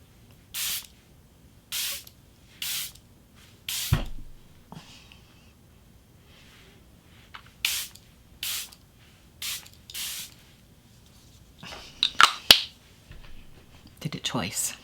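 Charlotte Tilbury Airbrush Flawless setting spray misted from a pump bottle in a series of short, close, hissing bursts, about eight in all spaced roughly a second apart, with a quiet pause in the middle and faint handling noises between sprays.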